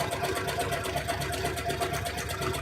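A sewing machine runs steadily, stitching with a fast, even mechanical rhythm of repeated needle strokes, close and continuous throughout with no voices.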